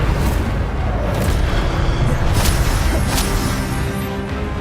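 Spell effects from the Hogwarts Legacy video game, including disarming and fire spells, come through as a dense, continuous roar with booming low rumble and several sharp whooshing bursts, loud and steady throughout with no talk.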